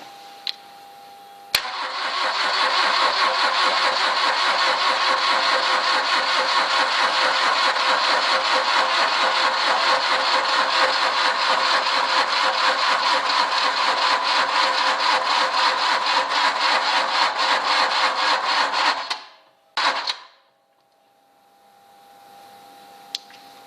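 A Citroën CX 2200D diesel engine cranking on the starter without catching: a loud, even, buzzing churn that runs steadily for about seventeen seconds, then stops abruptly and leaves near silence.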